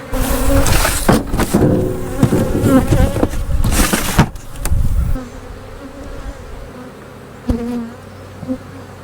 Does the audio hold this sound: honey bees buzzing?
yes